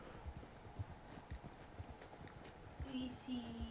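Horse hooves clip-clopping in the Red Dead Online video game, a soft, irregular thudding of steps at moderate distance with faint game ambience and a brief tonal effect near the end.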